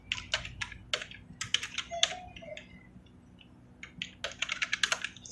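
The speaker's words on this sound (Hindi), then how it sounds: "अब आप यहाँ से टाइप करना शुरू कर दीजिएगा।" Computer keyboard typing while entering text in PageMaker 7.0: bursts of quick, close key clicks with a short pause in the middle, then another rapid run of keystrokes, no voice over it.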